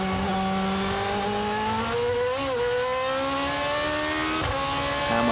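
A 2012 GP2 race car, heard from onboard at Spa, holds a loud, high engine note that falls in pitch, with two quick downshift blips breaking the steady scream.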